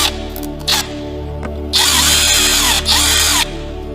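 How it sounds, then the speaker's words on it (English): A power drill fitted with a screwdriver bit unscrews the screws on a graphics card during a water-cooling conversion, giving loud steady whirring bursts, a short one early and a long sustained run over a low background hum. "You need to unscrew these two screws here. To unscrew these screws, you will need a attachment like that."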